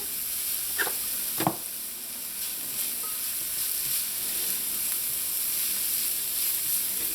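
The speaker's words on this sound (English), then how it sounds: "you're going to saute this with a little bit of salt just to help soften up everything" Onion, garlic, pepper and culantro sautéing with a little salt, a soft, even hiss and sizzle, with a couple of brief utensil knocks near the start, otherwise steady and moderately quiet.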